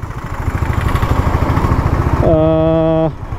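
A motorcycle's engine drones steadily and close while riding along a forest road, with a loud tonal horn blast sounding for just under a second near the end before the engine continues.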